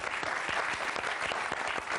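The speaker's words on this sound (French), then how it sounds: "On applaudit très fort Mouniawitis." A studio audience on a French-language talk show claps warmly, dense continuous applause filling the short moment at a steady, even level.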